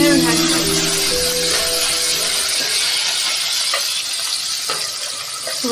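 Small onions fry in hot oil with a loud, steady sizzle and hiss close by, a faint utensil clink now and then as they are stirred.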